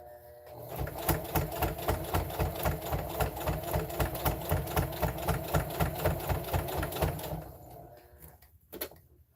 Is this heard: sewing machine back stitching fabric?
yes